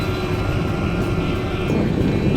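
A helicopter passes low overhead near a boat in the British Virgin Islands, a loud, steady rotor and engine roar filling the whole moment with no voices.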